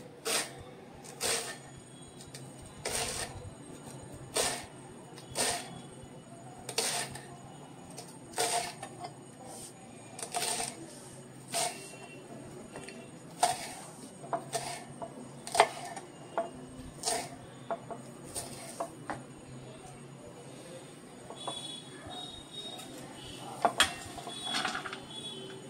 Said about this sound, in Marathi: तेव्हा ही आता मी बारीक चिरतोय.